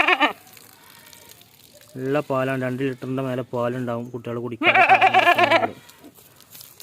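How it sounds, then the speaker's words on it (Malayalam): A large hornless dairy goat with two kids in Kerala bleats in a few wavering, quavering calls close by, broken up by someone talking. "നല്ല സൂപ്പർ ആട് കേട്ടോ"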